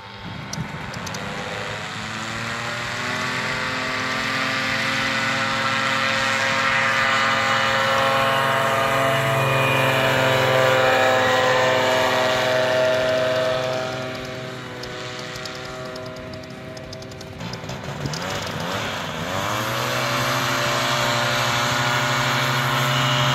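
Paramotor engine at a motorized paragliding memorial event in Poland, steady loud propeller drone with strong harmonic hum that dips briefly and then climbs again as the pilot takes off, no voices.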